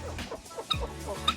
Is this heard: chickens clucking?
yes